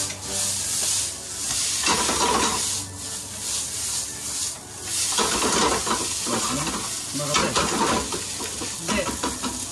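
Crab fried rice made with spiny lobster broth being stirred in a hot pan, loud close sizzling with rhythmic scraping and tossing strokes of a spatula against the pan.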